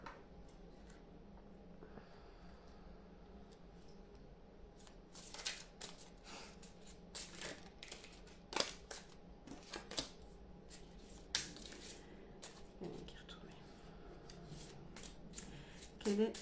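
Oracle cards being shuffled for a reading, heard as soft, rapid riffling and flicking bursts that grow busier partway through, faint and close, over a low room hum with occasional speech.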